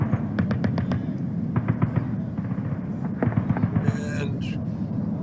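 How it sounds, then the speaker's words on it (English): Bursts of rapid gunfire from the combat ambience of the game Full Spectrum Warrior, sharp clustered cracks in uneven volleys over a low rumbling background, with a short whistling sound near the end. "there would be gunfire"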